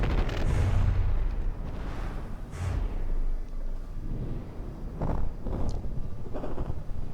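A battleship's big gun firing in a naval video game, heard as heavy booming blasts and rumbling that fill the whole stretch, loud and continuous with several sharper reports.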